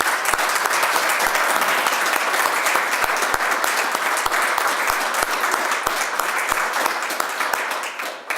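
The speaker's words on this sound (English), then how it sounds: "Why don't we have a round of applause for those folks?" Sustained applause from an audience honoring military veterans at a talk on WWII US military chaplains, dense steady clapping from a large crowd, loud and continuous throughout with a few sharp individual claps standing out.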